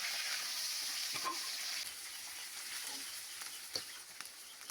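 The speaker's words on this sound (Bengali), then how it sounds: "তেলের মধ্যে দিয়ে দেবো এখন আমি মাছ, টাকি মাছগুলো" Small taki fish frying in hot oil with turmeric and chili, a dense continuous hiss and crackle close up, with a few light clicks of movement in the pan, no talking.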